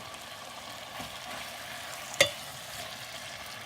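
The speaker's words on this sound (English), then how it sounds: "Mix that up and let everything coat in the oil, in the aromatics." Lamb curry meat stirred in hot oil with aromatics in a pressure cooker over a Trangia camp stove, a steady close sizzle with faint scraping and one sharp clack of the spoon against the pot.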